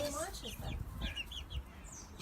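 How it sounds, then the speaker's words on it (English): Backyard chickens cluck and squawk in short, scattered bursts close by, with people talking quietly underneath. "I want to show you the chickens"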